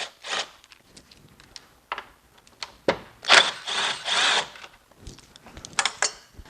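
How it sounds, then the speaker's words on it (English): Power driver backing T27 Torx screws out of a plastic grille support during an intercooler install on a MK7 GTI, short whirring bursts and longer runs in an irregular rhythm, close and fairly quiet. "we're going to take off this plastic grille support here, and there are T27 Torx screws that hold them in place"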